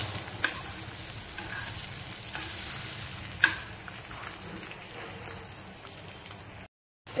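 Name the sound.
stir-frying ground spices (salt, chili, turmeric) in pan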